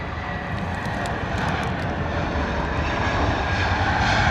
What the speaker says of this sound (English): There's a Swiss A220 coming in.